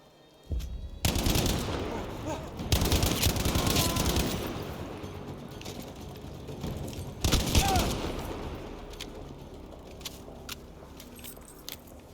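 Battlefield 5 campaign gunfire: loud close bursts of automatic fire and single rifle shots cluster in the first two-thirds and rattle through, then thin out into a few scattered distant shots, with some voices faintly underneath.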